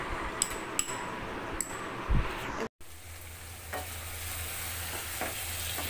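Meat slow-fried in a pan for Bengali kosha gives a soft, low sizzle, with a few light utensil clinks early on and a brief drop to silence partway through.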